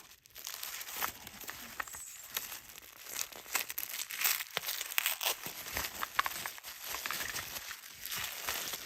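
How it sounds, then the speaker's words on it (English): Tissue paper wrapping crinkles and rustles almost without a break during an unboxing, handled up close with brief louder crunches and no talking. "I love the crinkly sound the tissue paper makes."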